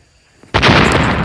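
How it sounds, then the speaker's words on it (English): A boat blows up in a game: a sudden loud explosion bursts in after a quiet moment and then rumbles on steadily, close and alone. "let's just watch it explode"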